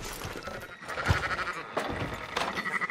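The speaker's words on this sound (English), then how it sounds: "Fine sheep." Sheep in the Red Dead Redemption 2 video game bleat repeatedly in a livestock setting, several close, loud calls overlapping in irregular bursts.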